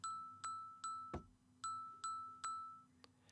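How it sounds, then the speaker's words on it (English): A short video game note melody resembling Jingle Bells, built in an elf-themed advent build with notes spaced four ticks apart: six evenly spaced bright chime-like dings with one low thud among them, clear and alone. "which certainly sounds a lot like jingle bells"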